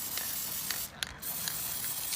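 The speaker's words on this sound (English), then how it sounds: "Just spray it on the back of them" A continuous close aerosol spray hiss onto the backs of Toyota 4Runner rear brake pads, with a brief break and a quick burst in the middle.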